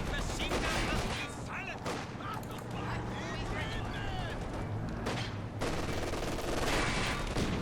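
Heavy .50 cal machine gun fire rattles in a World War II style video game match, dense bursts of shots and booms under a commentator's voice, with the loudness holding steady throughout.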